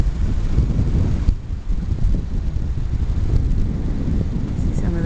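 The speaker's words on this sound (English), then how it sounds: "Wind's blowing, it's really cold" Wind blows hard across the Atlantic coast of County Clare, Ireland, buffeting the microphone with a loud, rumbling, gusty roar that dips briefly near the start and then holds steady.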